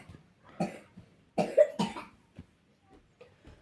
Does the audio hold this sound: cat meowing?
no